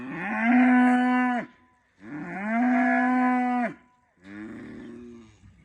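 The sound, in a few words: Dexter cattle mooing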